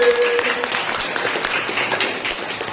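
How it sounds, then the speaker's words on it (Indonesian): A classroom of students applauds together in a steady, continuous wash of clapping that holds at an even level throughout, with no talk over it. "tepuk tangan untuk kita semua sekali lagi"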